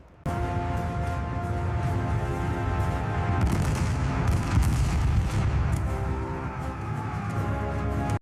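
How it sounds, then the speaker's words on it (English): The German battleship Schleswig-Holstein's guns fire on the Polish garrison at Westerplatte: a dense, heavy barrage of booming shots and rumbling blasts, continuous and loud throughout, with some sharper reports standing out and no talk. "the Schleswig-Holstein opened fire on the Polish garrison at Westerplatte"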